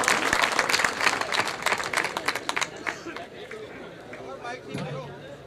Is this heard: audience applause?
yes